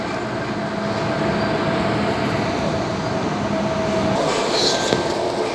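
On board a Sydney Train carriage rolling along the track, a steady loud rumble of wheels and car noise runs throughout, with a faint squeal near the end.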